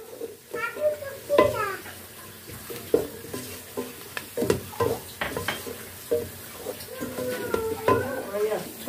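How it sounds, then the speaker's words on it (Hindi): Flour stirred into a hot pan for a Turkish chicken soup, with a spoon scraping and clinking against the pan over a soft sizzle, the sounds repeating in short bursts amid nearby kitchen clatter. "अब इसमें हम 1 टेबल स्पून मैदा डालेंगे और इसको अच्छे से मिला लेंगे, और 1 मिनट तक इसको हमने पका लेना है"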